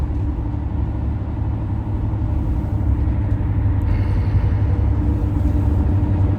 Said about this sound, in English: Sorry for the noise. I'm hitting a few bumps here.